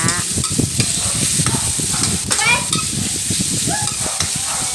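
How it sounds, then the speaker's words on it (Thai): Thinly sliced pork stir-fried in a hot pan with continuous loud sizzling and the rhythmic scrape of a spatula stirring, close and steady throughout, with no talk. "ผัดไปเรื่อยๆ จนหมูสุกค่ะ"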